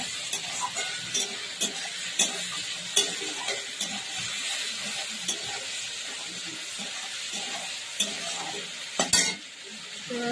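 A ginger, cumin and onion paste fries in a pan with a constant close sizzle, broken by repeated scraping strokes of a spoon stirring through it.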